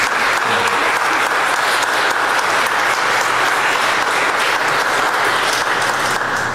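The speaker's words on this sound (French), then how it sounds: "On pourrait les applaudir." A congregation applauding at a Catholic Mass, dense sustained clapping filling the room at steady loudness from start to finish.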